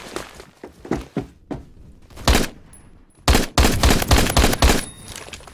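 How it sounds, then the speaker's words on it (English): Gunfire in the Roblox shooter Phantom Forces with an MSG90 rifle, scattered single shots and thuds, then two loud near bursts of rapid rounds, some distant fire between them. "Getting shot from everywhere."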